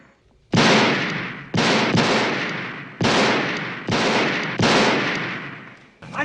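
Gunshots from the Halloween II film, six loud, booming shots spaced about a second apart, each with a long decaying echo, no talk.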